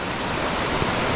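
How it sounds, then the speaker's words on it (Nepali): A taxi drives through flood water on a monsoon-flooded road, throwing up a continuous rushing splash that fills the short moment at close range. "ए ट्याक्सी आयो, ट्याक्सीले मलाई सरक्क हान्छ पानी बिस्तारै।"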